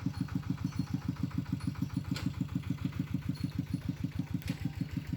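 A car engine runs while the driver tries to reverse, apparently stuck near a small hut where soil is being hauled. It gives a steady, close, rhythmic chugging idle with evenly spaced pulses throughout and no voices.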